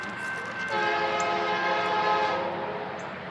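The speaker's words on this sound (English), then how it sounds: "Might be a K3L horn. Northbound local, Norfolk Southern." A Norfolk Southern northbound local train sounds a K3L-style air horn, a loud sustained multi-tone chord over steady rail rumble, close by and holding for most of the few seconds.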